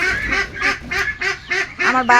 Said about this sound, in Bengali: এখানে আমার 8টা মুরগির বাচ্চা আছে